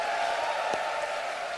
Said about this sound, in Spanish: un aplauso, si un aplauso de sacudir el edificio acá